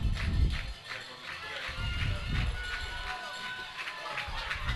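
Steady roar of a stadium crowd at a junior high football game, a broad cheering wash with a few claps and shouts, moderately loud and continuous throughout.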